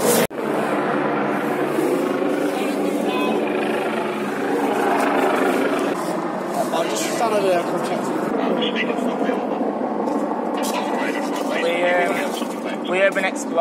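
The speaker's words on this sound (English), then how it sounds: "They've actually sent a helicopter for us." A police helicopter circles overhead at night, its rotor thrum a steady, moderately loud drone that swells and fades slightly while people talk nearby.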